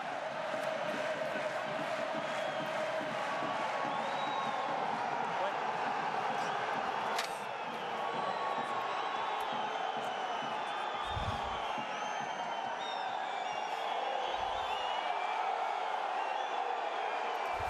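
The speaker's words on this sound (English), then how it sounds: "With the home crowd at the Aimé Giral absolutely loving it." A home rugby crowd at the Aimé Giral stadium roars and cheers steadily through a Top 14 match between Perpignan and Toulouse, with whoops over the din and a commentator speaking beneath it.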